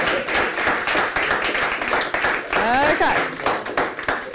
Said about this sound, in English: So shall we have a round of applause for the launch table?